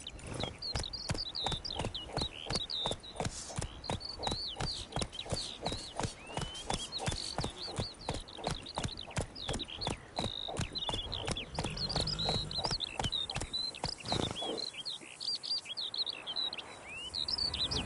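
Roach the horse trotting in The Witcher 3, a steady, close clip-clop of hooves at an even rhythm with birds chirping in the background, the hoofbeats stopping near the end.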